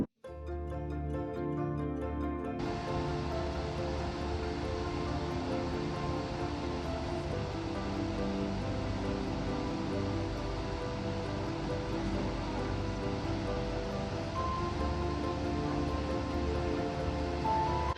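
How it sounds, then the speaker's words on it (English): Snoqualmie Falls, a waterfall about 268 feet tall, roars as a dense, unbroken wash of falling water that holds steady and loud throughout, with a brief tonal hum at the start. "That waterfall is about 268 feet tall."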